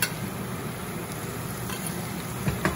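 Onion and ginger paste fries in a pan for a spicy Kerala fish curry. The close, continuous sizzle is broken by a couple of light scraping stir clicks near the end.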